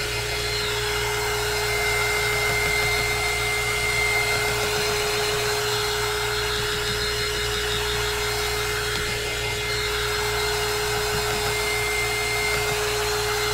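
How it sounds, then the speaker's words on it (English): Hair dryer blowing on milky Elmer's white glue for a crackle craft finish, a loud steady whine with constant airflow hum throughout, no talking. "So I'm drying my glue just a little bit, not too much."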